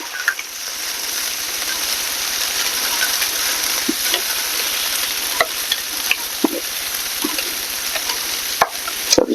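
Spam frying in a pan over medium-low heat, a constant close sizzle with scattered pops and light scraping taps, no talking.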